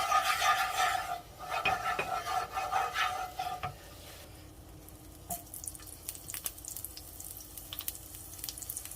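Bacon drippings crackle in a pot while being stirred, loud bursts of sizzling and scraping at first, then quieter, sparser pops and spatters close by, with no speech.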